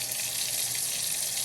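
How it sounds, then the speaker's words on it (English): Water pours steadily into jars of dry beans set to soak overnight, a continuous close-up rushing gush with no talk over it. "Alright, you want to fill them up with water"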